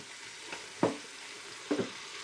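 Food fries in a pan during cooking, with a steady sizzling hiss broken by two louder scraping stirs, no voices present.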